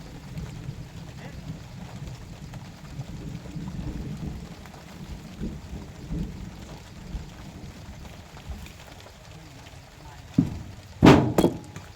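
Steady rain falls outdoors during bamboo prying work, a continuous soft hiss throughout, broken near the end by a few sharp, loud knocks.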